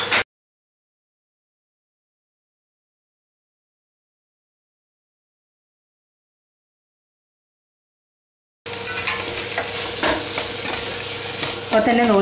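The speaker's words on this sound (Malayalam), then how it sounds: "നമുക്ക് ഇതിനൊക്കെ ടൊമാറ്റോ ആഡ് ചെയ്ത് കൊടുക്കാം. കൂട്ടത്തിൽ തന്നെ പച്ചമുളക്, ക്യാപ്സിക്കം" Tomato, green chilli and capsicum fry in a pan while being stirred, a loud close sizzle with scraping stirs that comes in after a long stretch of silence and continues to the end.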